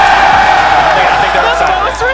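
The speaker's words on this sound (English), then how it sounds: "Receptive crowd." A large crowd at an esports major roars and cheers during quarterfinal play, a dense, loud wash of voices that holds steady the whole time.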